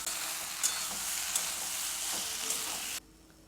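Ground sesame paste and green chillies are stirred into flat beans in a pan, producing a steady, fairly quiet sizzle with a few light scrapes before the sound drops away abruptly near the end.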